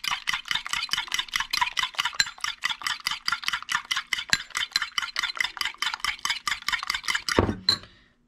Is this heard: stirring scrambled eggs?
yes